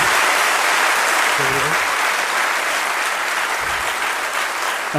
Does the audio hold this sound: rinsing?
no